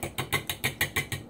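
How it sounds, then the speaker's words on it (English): A fork whisks eggs and milk in a bowl for an omelette, giving eight quick, evenly spaced clinking strokes in a brisk steady rhythm, close up and alone. "Nope, you use a fork to whisk eggs."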